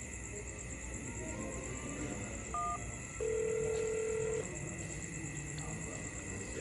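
Telephone keypad tones dialing a national emergency service line: a short two-tone beep followed by a longer steady tone, heard clearly over a constant electronic hum.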